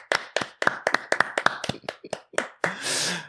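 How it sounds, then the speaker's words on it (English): A few people on a handball podcast clap briefly in a loose, uneven burst of about a dozen close, crisp claps, followed by a short rush of breathy noise. "I think we have to start with just a clap for the USA"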